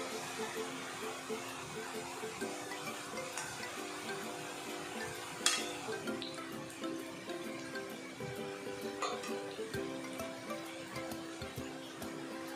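Besan pakoras being turned and fried in hot oil for kadhi, giving a continuous dense bubbling sizzle throughout with faint utensil clicks and one sharper clink partway through.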